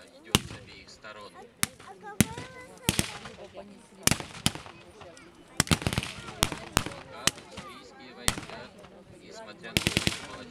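Both sides trade gunfire across an open field, with single cracks and quick clustered bursts ringing out at uneven intervals, loud and near, over a faint background rumble.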